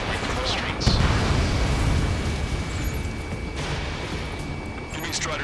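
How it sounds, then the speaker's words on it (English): Heavy, rumbling battle noise from Ace Combat 7 fills a city scene under martial law. Booming blasts and dense roar come through as a near-constant wash, with stronger bursts around the first second and again later on. "Gunfire and the roar of jets echoing through the streets."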